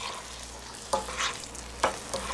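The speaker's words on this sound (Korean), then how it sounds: "그리고 이렇게 볶아줄게요." Green onion, onion and bell pepper stir-fried in a pan for tteokbokki give a quiet, steady sizzle, broken by two or three sharp scraping clicks from the stirring utensil. No one speaks.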